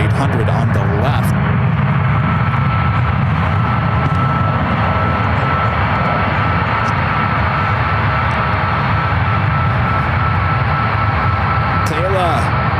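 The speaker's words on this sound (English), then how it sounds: "A United Airlines flight 490 coming up from Calgary, 737-800 on the left" A Boeing 737-800 airliner at San Francisco airport produces a steady, loud jet engine roar that holds throughout, with faint voices talking underneath.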